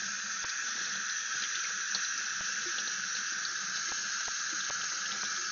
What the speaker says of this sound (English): I am gonna rinse the brine shrimp.